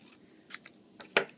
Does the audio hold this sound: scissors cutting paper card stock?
yes